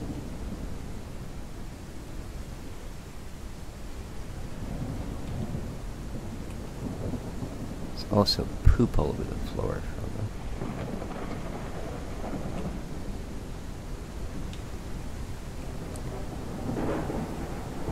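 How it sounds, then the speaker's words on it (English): A thunderstorm with rain rumbles in the video game Ranch Simulator, a steady low roar of rain with a sharp thunder crack near the middle and a softer rumble later. A voice speaks briefly over it. "Storm, eh?"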